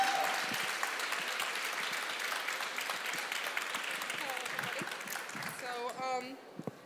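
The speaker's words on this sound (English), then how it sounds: "please give an even bigger clap" Audience applause at a panel on mentoring for women, dense steady clapping that gradually fades and gives way to a voice talking near the end.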